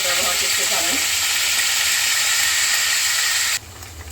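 A cup of onion paste fries loudly in hot oil for a spicy boal fish curry, giving a dense, steady close sizzle and hiss that drops abruptly near the end.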